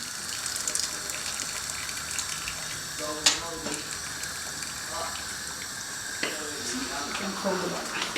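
Cold tap water gushes steadily over freshly cooked lasagna noodles in a home kitchen, a continuous hiss of running water with a couple of sharper splashes, while someone talks over it.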